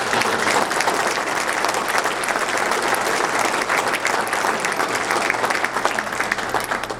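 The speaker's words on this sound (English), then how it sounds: "Would you please give a round of applause to these men" Steady, dense applause from an audience at a spring reunion reception, filling the room continuously at full volume for the whole stretch with no voices breaking through.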